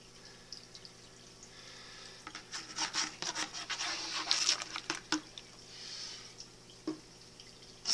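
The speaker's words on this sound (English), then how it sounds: "What I will do is a little quick back pan, see if there is any black sand that came with it." Water and black sand swirl and scrape in a gold pan during back panning, a series of close rubbing and splashing swishes over a low background hum.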